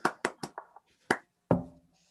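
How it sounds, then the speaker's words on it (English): A few hand claps during an online streamed session: a quick run of five sharp, close claps, a short pause, then two more, fairly quiet and with no talking. "maybe we can just applaud this way"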